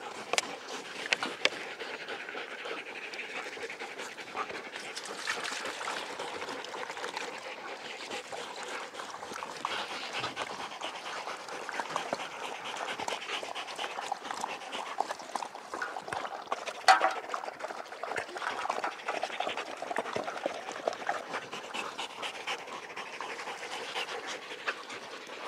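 Sled dogs panting heavily after pulling training on a hot day, with lapping and trickling as they drink water from bowls, soft and close, steady breathing throughout.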